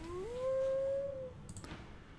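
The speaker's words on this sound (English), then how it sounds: "We have a dog here." A dog howls in the game Divinity: Original Sin 2, one long rising then steady wail lasting about a second, followed by quieter ambient game noise.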